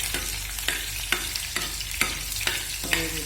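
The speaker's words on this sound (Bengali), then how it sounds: "এখানে একটা চামচ দিয়ে একটু নেড়ে ছেড়ে দেবো।" Green chillies fry in hot mustard oil while a spoon stirs them, giving a steady crackling sizzle with about eight regular scraping strokes, close and clear, with no voices.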